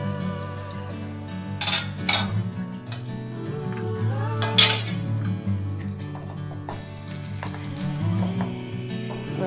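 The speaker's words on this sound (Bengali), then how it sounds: "এবার তেলটাকে আমি খুন্তি দিয়ে ভালো করে চারিদিকে" A metal spatula scrapes and clinks around a hot wok as oil is spread before frying prawn-head pakoras, giving brief metallic taps and scrapes over a steady background hum.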